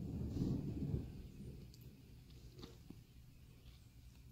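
A low rumble of distant thunder swells and fades over the first second or so, followed by quiet background with faint scattered ticks.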